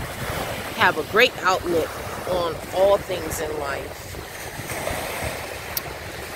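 Open-water waves surge and wash with gusty wind noise as a steady rushing bed beneath a person talking close to the microphone.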